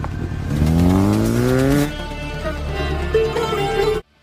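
A motorcycle engine revs hard and climbs in pitch as two people flee on the bike, its loud rising whine dropping, then settling into a steadier drone before cutting off abruptly.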